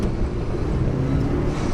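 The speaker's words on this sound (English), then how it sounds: "So much more boost, Martin." A car fitted with a budget intercooler water spray accelerating hard under boost, a loud continuous engine and road roar filling the whole short stretch, close to the microphone, without talk.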